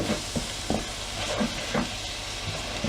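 Soy sauce poured generously over fried rice sizzling in a hot pan, a steady frying hiss broken by short stirring scrapes and clinks, close and alone.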